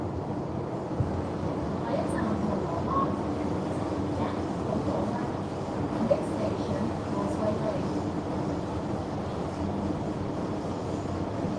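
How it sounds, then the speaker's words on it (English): Rumbling, steady train noise at a Hong Kong MTR station, a broad low roar with faint squeals and clatter throughout, constant and fairly loud with no clear pauses. "what does the train sound like to you guys? Because it's actually really noisy here."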